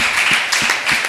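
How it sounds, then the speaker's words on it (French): An audience applauds after a lecture talk, producing a dense, continuous burst of clapping that sounds close and fairly loud, with no voices over it. "Des applaudissements, s'il vous plaît"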